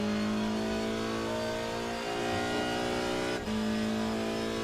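A number 8 BMW 322i STW touring car races around Okayama in a sim racing game, its engine holding a loud, steady high drone with a brief dip and gear change before pulling again.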